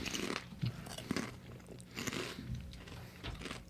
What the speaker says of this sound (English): this episode where you'll hear people chewing